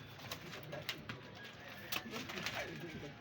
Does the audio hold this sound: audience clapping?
no